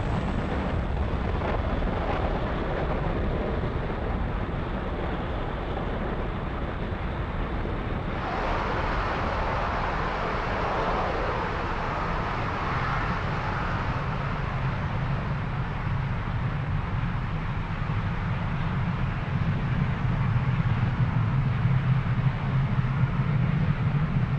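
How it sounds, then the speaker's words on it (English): Roaring rumble of a SpaceX Falcon 9 lifting off from Pad 40 at Cape Canaveral with Eutelsat 10B, a loud continuous broadband roar that shifts tone partway and holds steady throughout with no talk. "And liftoff for Falcon 9."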